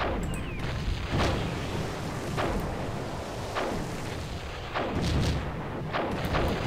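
Cannon fire in the strategy game Cossacks during a naval battle, a series of deep booming shots with crackling tails, several reports spaced irregularly over a steady loud battle din, with no talking.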